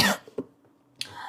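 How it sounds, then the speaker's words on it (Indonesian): A woman's short coughing fit after eating crackers, with a sharp cough, a smaller second cough and another brief cough about half a second later, close and alone. "Kok batuk ya?"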